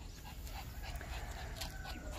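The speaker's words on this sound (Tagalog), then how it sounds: "Dahil sa aking aso." A pet dog whimpers and pants in the garden among bougainvillea bonsai, a soft steady whine with faint yips over continuous background noise.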